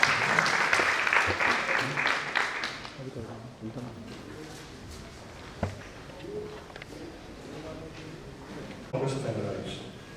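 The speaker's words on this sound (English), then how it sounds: "We have a huge round of applause" Audience applause breaks out at an NRI convention gathering in New Delhi, a burst of dense clapping that fills the first few seconds and then fades as a voice begins speaking over the quieting hall.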